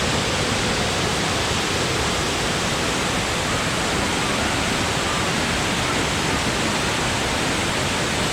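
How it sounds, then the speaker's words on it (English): A waterfall roars up close, a loud, dense, unbroken wash of rushing water filling the whole sound with no pauses. "I believe this is the closest I've ever been to an actual waterfall in my life."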